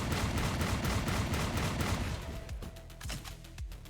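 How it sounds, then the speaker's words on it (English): Rapid, loud bursts from the Sulfator, a big chain-fed shotgun in the sci-fi shooter Roboquest, fire in a dense continuous volley that thins into separate booming shots toward the end. "The sulfator shotgun, it's a big chain shotgun thing."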